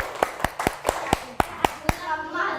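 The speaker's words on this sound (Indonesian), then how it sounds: "Tepuk tangan untuk 5 orang pemuncak" Elementary school classroom clapping for five top quiz students, roughly eight crisp, evenly spaced claps that stop abruptly, leaving faint room noise.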